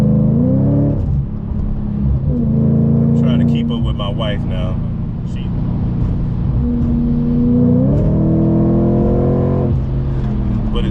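A supercharged Audi B8.5 RS5 with a JHM exhaust pulls through the gears, its engine note rising, dropping at shifts, then climbing again, heard loud from inside the cabin while someone talks over it.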